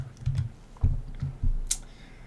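Several soft keystroke clusters tapped out on a computer keyboard, close by and fairly quiet, in short irregular bursts with a brief sharper click near the end.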